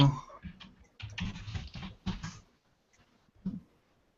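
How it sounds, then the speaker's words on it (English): Fast, loud clacking on a cheap Chinese computer keyboard comes in quick bursts of keystrokes, close by, then fades to a few isolated taps. "Deb, don't type so loud."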